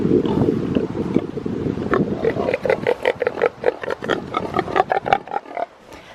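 Pigs grunt and snort up close in a rapid series of rough, throaty bursts, over a windy, rumbling outdoor background.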